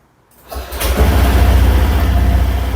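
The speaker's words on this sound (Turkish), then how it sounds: "Motorumuzu çalıştıralım." Honda Dio scooter engine starting after a brief quiet moment, catching quickly and settling into a steady, close, low idling buzz with no talk.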